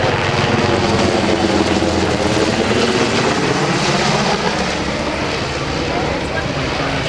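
Black Hawk military helicopter flown by the Pennsylvania Army National Guard at Rotorfest, with a loud, continuous rotor and engine roar that stays close and steady throughout and a voice talking over it.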